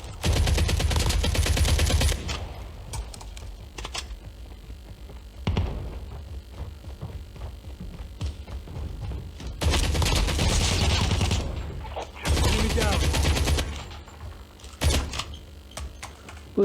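Automatic gunfire in Call of Duty Mobile comes in several long, loud, rapid bursts with quieter gaps of clicks and game sounds between them, all close.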